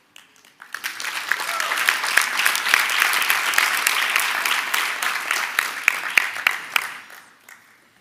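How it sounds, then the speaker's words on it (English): An audience claps at a university human rights centre's 2023 graduation ceremony: loud, dense applause swells within the first second, holds steadily for about six seconds, then tapers off. "Everyone else who's not graduating also claps."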